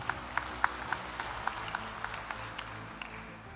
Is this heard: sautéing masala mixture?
no